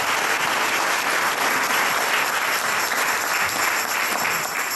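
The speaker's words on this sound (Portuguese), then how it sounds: "Put your hands together for Jesus." Congregation at an Angolan independence anniversary thanksgiving church service in London breaks into sustained, dense applause, loud and steady throughout with no break.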